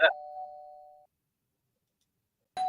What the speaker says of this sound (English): Hold on. Doorbell.